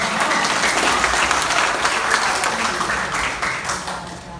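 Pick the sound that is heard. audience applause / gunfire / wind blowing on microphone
audience applause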